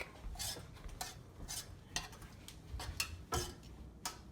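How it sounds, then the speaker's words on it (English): A spoon stirs spaghetti and sauce in a cooking pot, making repeated scraping, clinking strokes about every half second, close and fairly quiet with no talking. "Stirring and we're stirring."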